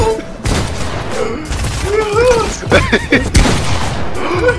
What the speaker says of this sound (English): Shooting me when I'm going up?